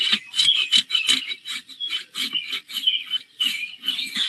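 Rapid rasp strokes smoothing a horse's hoof, a quick irregular series of scratchy scrapes up close with no pauses and no voices.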